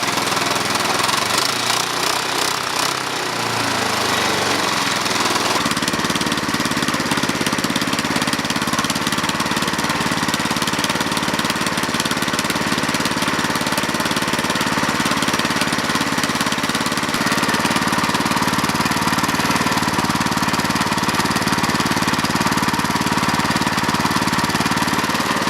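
A go kart's small engine runs loud and steady after a cold start on a very cold day, rattling and knocking continuously up close. The note shifts slightly after a few seconds, then holds a constant idle.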